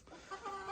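Quiet, brief clucking of game hens, a few soft throaty notes close by with no other sounds.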